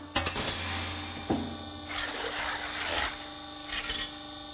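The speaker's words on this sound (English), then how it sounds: "Here, for example, one sees the notching of three different sheet thicknesses without die clearance adjustment and while retaining constant cutting quality." Boschert notcher cutting sheet metal of three different thicknesses, a harsh rasping, grinding bite in several separate bursts with a sharp clunk between them, heard close and loud without any speech.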